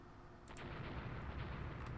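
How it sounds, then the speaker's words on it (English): Seven-inch gun fire hitting a ship in the naval video game Rule the Waves: a dense, continuous low rumble of distant booms and blasts, heavy and muffled, with no voices. "Just more 7-inch guns hitting that ship"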